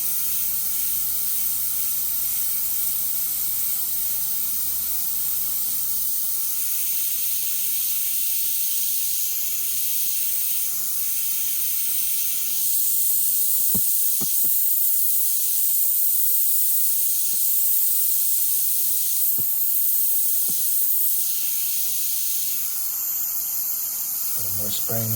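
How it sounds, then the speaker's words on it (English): A spray gun hisses continuously, spraying paint on a Mustang hood, steady and close for the whole stretch, with a few brief clicks and someone talking over it. "A little more spraying in here, and then down into this area."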